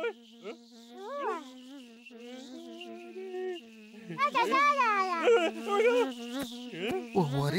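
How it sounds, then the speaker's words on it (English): Cartoon bee buzzing, a thin, wavering whine that swoops up and down in pitch, continuous and close, with a child-like voice talking alongside it. "It's a bee."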